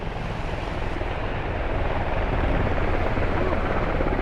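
A helicopter flies in the military shooter game Squad, a dense, steady rotor-and-engine roar that swells slightly and fills the whole scene without pause.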